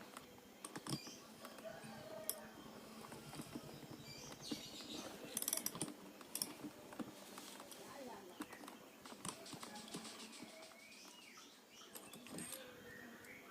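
Four bolts come off the stator of a refrigerator compressor, giving faint, close metallic ratcheting and small clicking and tapping mechanism sounds, scattered irregularly over a quiet background with a voice talking.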